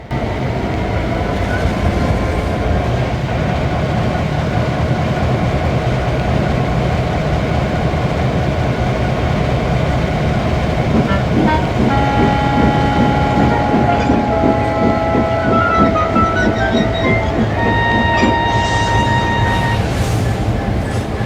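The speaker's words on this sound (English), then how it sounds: "He found it hard to pull his train while pushing another, but Kyle and Jason assisted." A model train rumbles steadily along the rails for a long stretch while pushing another train, with constant clattering wheels and metallic squeals rising toward the end.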